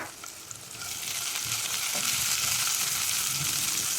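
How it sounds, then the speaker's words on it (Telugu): Curry leaves frying in oil in a pan for upma, a steady close sizzle that swells and then holds loud and even, with no talking. "ఇందులో ఇప్పుడు కాస్త కరివేపాకు వేసుకోవాలి"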